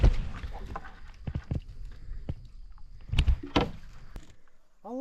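A canoe paddled through water in the Nova Scotia backcountry in fall, with several close splashing strokes and dripping at an uneven pace, then a short squeak at the end.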